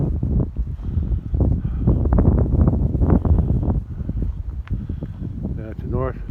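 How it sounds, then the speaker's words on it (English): Wind gusting outdoors near a house with cattle nearby, loud buffeting rumble against the microphone throughout, with someone talking over it. "Yeah, it's windy out here."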